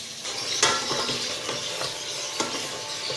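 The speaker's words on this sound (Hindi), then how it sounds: "हम 5 से 10 मिनट तक इसको अच्छी तरह से भून लेंगे, इतना कि गोश्त का रंग तब्दील हो जाए" Mutton being fried and stirred in a pot for Peshawari namkeen gosht, a low steady sizzle broken by a few sharp spoon scrapes and clinks against the pan.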